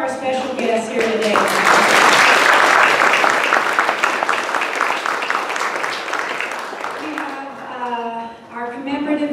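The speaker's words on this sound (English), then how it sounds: "Let's give a round of applause for all of our special guests here today" A reception crowd gives a sustained round of applause for special guests at a birthday celebration, the clapping swelling loudly and then fading as a speaker's voice returns over the tail end.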